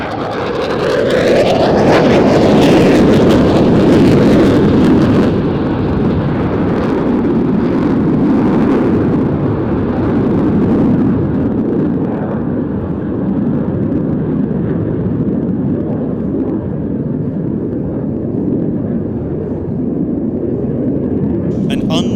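Eurofighter jets at an airshow display produce a loud, rumbling roar with wind buffeting that gradually fades and thins as they pull away, while a commentator talks over it.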